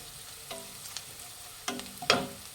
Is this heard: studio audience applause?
no